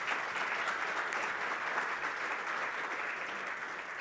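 A conference audience at a national green hydrogen event in Namibia applauds the minister, a steady, dense wash of many hands clapping continuously at moderate volume with no talking.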